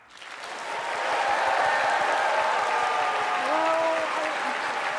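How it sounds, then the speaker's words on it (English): Steady applause from a group at the 2024 MIT Mystery Hunt opening ceremony swells up quickly and holds at full volume, with a few faint voices ringing through the clapping. "What if we gave you a round of applause as our favorite god?"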